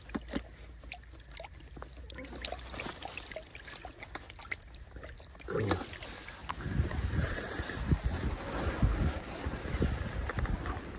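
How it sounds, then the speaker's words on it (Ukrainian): Strong wind blows at a fishing spot on the water under a gathering cloud, roaring steadily across the microphone, growing louder and more buffeting in the second half, with faint water trickling beneath. "Піднявся сильний вітер."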